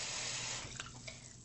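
Tap water runs steadily from a sink faucet while a natural-bristle makeup brush is rinsed and squeezed, a continuous close splashing hiss that thins slightly toward the end, with no talking.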